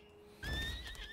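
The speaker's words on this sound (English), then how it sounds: "Now, let's get on the horse." A horse in the Lost Ark video game gives a short, sharp neigh as it is mounted, heard alone and fairly close after a moment of quiet background.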